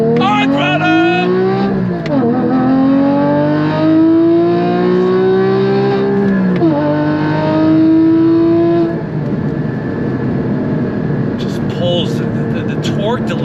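A modified Porsche Cayman GT4 with a 6-speed manual gearbox pulls hard under full throttle, its engine note climbing loud and close through the revs. A gear change briefly drops the pitch before it rises again, and the note then eases off.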